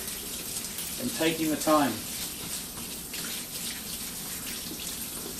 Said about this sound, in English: I want to rinse this away thoroughly.